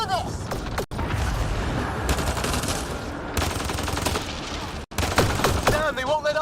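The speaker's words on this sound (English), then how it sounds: "Just keep firing!" Sustained automatic gunfire in the Mass Effect: Andromeda video game, dense rapid bursts rattling almost without pause for several seconds, with brief gaps and a voice shouting over the combat.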